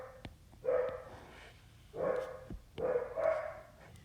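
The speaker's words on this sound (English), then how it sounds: "got an excited dog downstairs" An excited dog barking downstairs, three muffled bursts of repeated barks spaced a second or so apart, heard from another room at moderate loudness.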